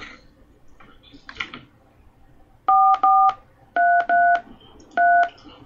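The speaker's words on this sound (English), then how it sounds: "Please enter your conference ID and press the pound key." Five telephone keypad touch-tones entering a conference ID on a call line, clear and evenly paced in two short bursts, preceded by faint handling noise.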